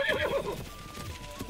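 Horse neighing in the video game The Legend of Zelda: Breath of the Wild, a loud whinny with rising and falling pitch in the first half-second, then fading into quieter background game sound.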